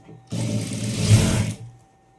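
Sewing machine running in one steady burst of about a second, stitching the sleeve of a readymade dress, with brief quieter motor hum before and after.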